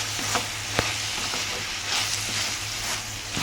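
Curry cooking uncovered in a pan on a medium flame, a constant sizzle and bubbling up close with a few light clicks and stirring scrapes.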